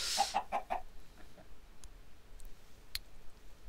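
Chicken clucking from the Minecraft video game: a quick run of four or five clipped clucks at the start, close and clear, fading into quiet game ambience with a faint click later on.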